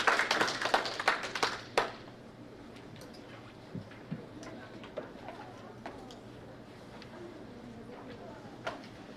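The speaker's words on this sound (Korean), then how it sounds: "오늘 또 발표하실 양동엽 작가는 큰 박수로 맞이해주시기 바랍니다." At a tea culture academic conference, an audience welcomes a ceramic artist to speak with a short, fairly quiet burst of applause that fades within about two seconds into scattered, isolated claps.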